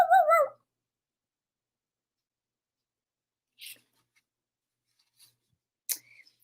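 A single short whining dog yelp sounds at the very start, followed by near silence broken only by a few faint clicks.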